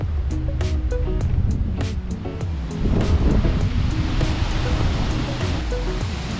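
At the Gallito Ciego dam in Cajamarca, Peru, water pours from the spillway at full capacity in a loud, steady, broadband roar close by, with a faint voice underneath.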